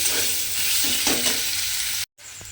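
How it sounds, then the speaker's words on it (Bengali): Chopped onions fry until browned in a pan, a steady close sizzle with a few soft stirring scrapes, broken by a brief cut to silence before resuming. "পেঁয়াজটাকে আমাকে প্রথমে একটু লাল করে ভেজে নিতে হবে"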